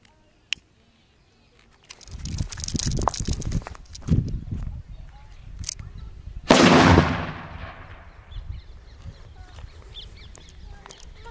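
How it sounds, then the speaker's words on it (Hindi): A sutli bomb firecracker set near a bike tyre during Diwali goes off in one loud, sharp bang followed by a long crackling decay, after several seconds of fizzing, rustling and scattered knocks. "तो मैं यहाँ पे एक सूतली बम को जला देता हूँ"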